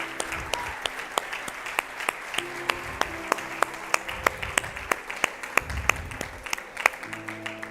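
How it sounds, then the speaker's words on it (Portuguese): A church congregation claps during a Sunday morning service, with sharp, fairly regular claps ringing out over a low murmur and some background organ or keyboard tones. "aplauda o Senhor pela sua palavra"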